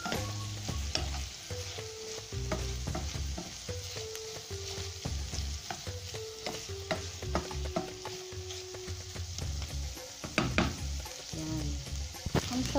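Sweet soy sauce mixture is stirred in a frying pan for a kudo sandwich, with a soft sizzle and a run of scraping, clinking utensil strokes against the pan that go on throughout.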